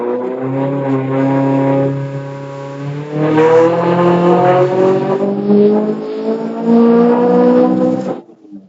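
A tuned 2012 Subaru STi with a 2.34-liter engine and G35-1050 turbo revs loud and close, its tone rising and falling while the engine stumbles and misfires in rough patches before cutting off.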